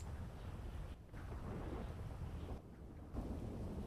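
Thunder rumbles in a low, steady roar mixed with rain and wind noise, faint and distant, briefly dropping out twice before resuming.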